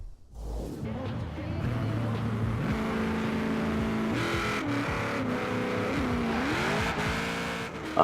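A car launches hard with a little wheel spin in Forza Horizon 4, with the gearing slightly shortened. The engine roars loud and steady, its pitch climbing and dropping through quick gear changes over several seconds.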